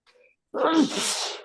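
A single loud, close sneeze after a brief faint intake of breath.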